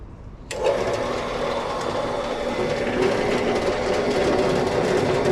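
A belt-driven saw starts abruptly and cuts at a 15-degree angle, its loose belt wobbling, making a steady rattling mechanical whir that runs loud and continuous for several seconds, close by, with no voices.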